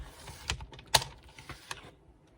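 Paper for a scrapbooking card is cut with a few quiet, crisp clicks and snips spaced about half a second apart, close by, with no talking.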